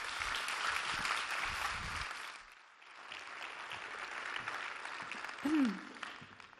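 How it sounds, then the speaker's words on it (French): An audience at an EPFL alumni gala applauds a speaker, a dense wash of clapping that fades briefly in the middle and then swells again, with a short voice near the end. "On peut l'applaudir."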